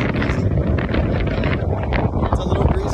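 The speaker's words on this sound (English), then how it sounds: "It's a little breezy in Vegas." Gusty wind buffets the microphone outdoors in Las Vegas, a steady loud rumble with rustling bursts filling the whole stretch.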